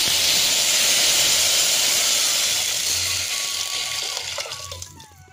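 Tomato and tamarind water poured into a hot pan for rasam hisses and sizzles loudly at first, then the steaming fades and settles over a few seconds.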